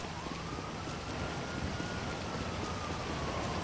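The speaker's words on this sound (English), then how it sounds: "Well, it started raining." Steady, dense rain hisses throughout in GTA Online, with a faint siren wailing in the distance under it.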